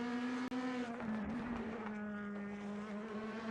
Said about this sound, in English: Jonathan Visser appears focused and prepared driving through Mercedes.